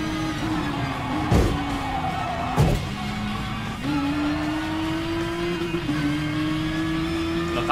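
A heavy race car in Gran Turismo Sport holds a loud, sustained engine drone, its pitch stepping through several gear shifts with sharp bursts of noise between them.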